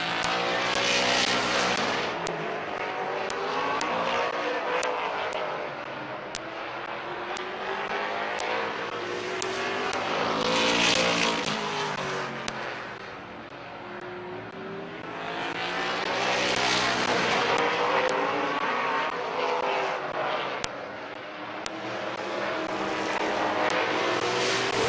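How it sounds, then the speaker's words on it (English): Late model race cars in an evening heat race at Midvale Speedway, their engines roaring past in repeated swells that rise and fade as the pack laps the track, with occasional sharp clicks. "We're halfway home with our favorite late model heat race of the evening."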